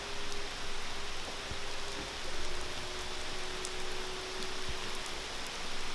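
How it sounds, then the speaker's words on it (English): Summer rain falls steadily in a dense, close hiss, with scattered faint drips and a low hum underneath, no voices. "Look at that rain."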